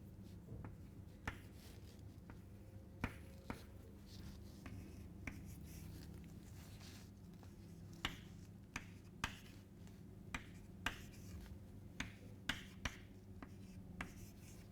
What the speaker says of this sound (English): we will just write the numbers down.